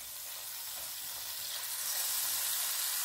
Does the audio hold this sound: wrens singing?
no